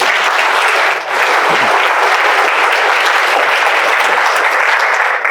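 An audience at a talk applauds a man named Yunus with loud, sustained clapping that fills the room evenly from start to finish.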